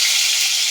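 Garlic dropped into hot oil in a cooking pot gives a steady, close, bright sizzling hiss that holds level through the whole short moment, with no voices.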